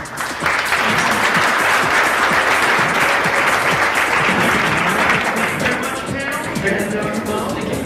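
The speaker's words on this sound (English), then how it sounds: "Big round of applause for this panel." A conference audience applauds a panel on security tokens, sustained loud clapping from a crowd filling the whole stretch and fading slightly toward the end.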